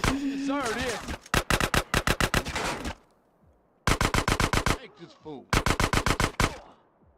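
Rapid bursts of automatic gunfire in a GTA game, three loud groups of evenly spaced shots separated by short quiet gaps, with a brief voice or effect at the start.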